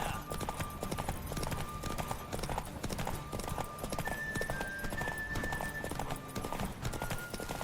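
A horse gallops in The Witcher 3, its rapid hoofbeats drumming steadily and close throughout, with a brief whinny and faint game music behind.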